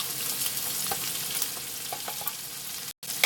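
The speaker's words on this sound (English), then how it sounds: "Going to add our sausages. Going to cook that down. I am now going to add the onions," Sausages and onions frying in oil in a pan: a steady, fairly loud sizzle runs throughout, with a few soft stirring clicks and a brief dropout near the end, with no talking.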